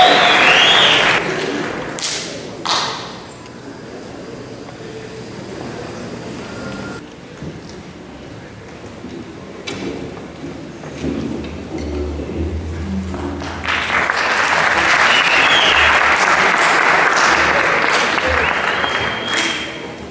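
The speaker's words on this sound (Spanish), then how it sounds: "Recibámoslas con un fuerte aplauso." Applause from a theatre audience at a university arts ensemble concert, starting strong, thinning into scattered clapping with some voices and stage noise, then swelling again into a full, loud ovation.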